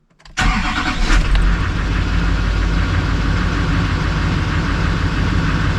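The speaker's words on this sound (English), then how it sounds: "let me go ahead and fire up the truck and see how it goes" An LBZ Duramax diesel pickup truck engine cranks briefly and catches, then settles into a loud, steady rumbling idle close by.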